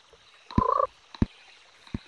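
Frog croaks from the Pocket Frogs mobile game: one longer warbling croak followed by two short, separate croaks, clear and close with no talk.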